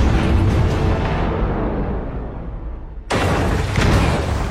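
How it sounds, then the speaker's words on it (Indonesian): A car explodes after plunging into a ravine in an action movie scene: a loud, deep, rumbling blast that fades into a low roar and then a second sharp burst of noise. "Mike mendorong mobilnya jatuh ke dalam jurang dan meledak"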